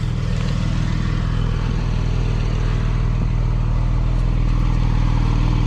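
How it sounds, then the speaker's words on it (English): A 2024 Porsche Cayman GTS 4.0, bone stock, with exhaust valves open: a deep, throaty exhaust rumbles loudly and continuously nearby, a steady burbling drone with a faint rise in intensity toward the end. "Do you hear that exhaust open up? You hear those valves open up?"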